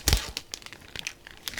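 Plastic wrap crinkles and tears as delivered dumplings, two kimchi and one meat, are unwrapped, giving a series of close, short rustling bursts.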